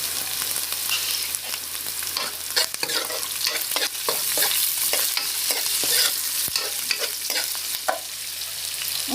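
Salted onions frying in a pan, a constant crackling sizzle with a spatula scraping and stirring in quick, uneven strokes, close and fairly loud, with no talking.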